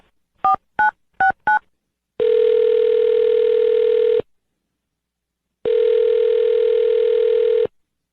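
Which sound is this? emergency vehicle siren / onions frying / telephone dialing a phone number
telephone dialing a phone number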